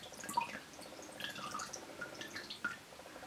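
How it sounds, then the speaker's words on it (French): Water dripping from soaked Tencel fabric, a few faint scattered drips with soft trickling between, quiet and close, no voices. "donc je laisse égoutter"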